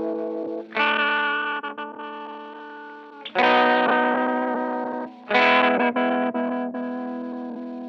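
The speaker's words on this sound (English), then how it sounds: "I'll bet that bridge sounds really great with that generation loss." Electric guitar on a Heritage H-535, played on the bridge pickup through a generation loss pedal: three sustained, warbling chords ring out loud and dense, each left to decay before the next is struck, with no talking.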